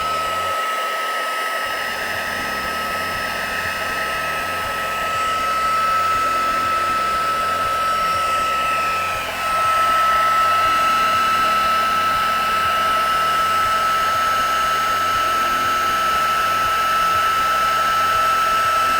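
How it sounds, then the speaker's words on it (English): A heat gun runs steadily while warming embossing powder on a mixed media card, a continuous breathy whoosh like a hair dryer with a faint high whine, close and fairly loud for the whole stretch, slightly stronger toward the end. "Just get my heat gun warmed up a little bit."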